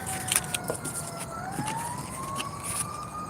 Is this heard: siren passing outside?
yes